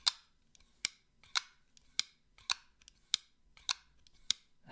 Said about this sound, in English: Also the sound, very unique, kind of like double clutch, clack, clack.